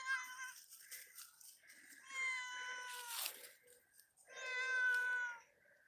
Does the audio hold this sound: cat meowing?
yes